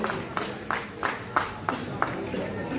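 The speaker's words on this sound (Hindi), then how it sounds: "आप सभी ताली बजाएं ताकि उन सभी का हौसला अफजाई हो" An audience at a journalist association state meeting in Raipur claps in a steady, moderate rhythm of distinct hand claps, with a voice heard faintly beneath.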